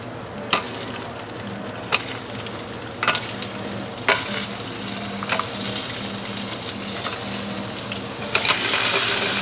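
Potatoes for seafood paella frying in a hot pan, a continuous loud sizzle broken by several sharp stirring scrapes and clatters at irregular intervals, building hotter toward the end.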